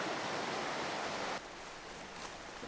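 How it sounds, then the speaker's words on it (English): Rapids on a shallow rainforest salmon stream rush as a dense, steady roar of water, loud at first, then dropping to a softer but continuous wash. "It's the perfect salmon stream. Shallow water for spawning and a set of rapids for fishing."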